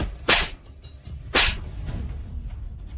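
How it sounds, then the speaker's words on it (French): Two sharp slaps to the face land about a second apart, each a loud crisp crack standing out over a low background hum, with no speech between them. "Ces deux gifles sont pour calomnier ma fille Suizui."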